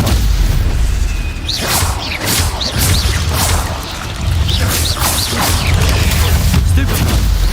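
Spell combat in a Hogwarts video game with Stupefy being cast: a loud, busy string of booms, whooshes and crashing magical impacts, steady throughout with faint voice sounds mixed in.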